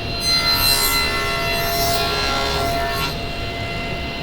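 A table saw fitted with a dado blade cuts through a wood board, a loud steady broadband roar for about three seconds that then eases into a lower running hum.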